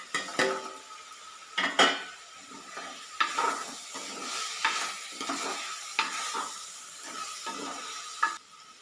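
Cut green chillies land in a hot pan and get stirred, giving a quiet background sizzle under repeated spoon scrapes and metallic clinks against the pan, close and without any speech.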